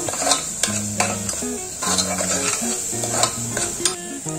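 Masala spice paste sautés in a pan, with soft sizzling under repeated scraping and stirring strokes of a spoon against the metal, close and busy with no voices.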